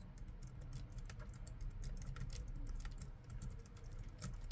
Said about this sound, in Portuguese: É o teclado da Logitech.